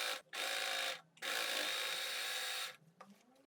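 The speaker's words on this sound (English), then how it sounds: "Finish the edges on the sides." Sewing machine finishing the side edges of a halter neck summer dress: two sustained whirring runs of stitching, a short one then a longer one, separated by brief pauses, ending with faint handling sounds.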